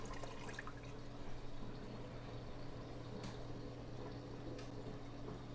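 Water and a fish being poured into a white bucket, a soft continuous splashing and trickling at low level with a low steady hum beneath and no talking.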